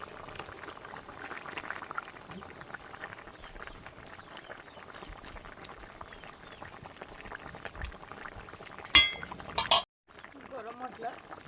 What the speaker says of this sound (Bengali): এবারে বেগুন ডিমের পোচগুলো ঢেলে দিচ্ছি